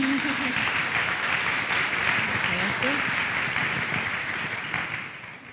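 Audience applause at a talk, sustained clapping from a seated crowd with a voice speaking over it, steady and moderately loud before easing off near the end.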